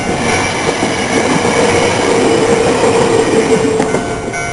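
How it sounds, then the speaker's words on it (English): A train passes near a road during a trip in Japan, giving a loud continuous roar of rail cars with wheel clatter and a faint metallic squeal, unbroken for several seconds and with no talking. "Just waiting for the train to pass."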